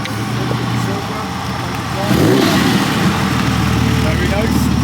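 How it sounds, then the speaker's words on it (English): A TVR sports car arrives at a classic car show at a carnival, its engine rumbling low and growing louder midway as it approaches and idles close by, with people talking over it. "We got a TVR coming in now."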